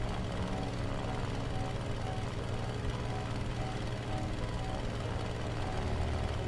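Propeller airplane engine in the video game Battlefield, a steady, loud droning hum that holds without break throughout.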